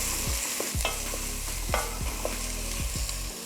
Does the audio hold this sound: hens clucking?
no